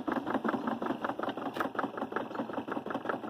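A Cuthbert lab-size grading and sifting machine with a 1/4 horsepower, 115 volt single-phase motor runs quietly and smoothly, a soft, fast, even rhythmic shaking chatter from close by.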